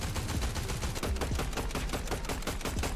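A rifle in Fortnite fires in a fast, continuous stream of closely spaced shots, loud and near, with no talk over it.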